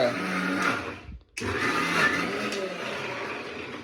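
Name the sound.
mixer grinder running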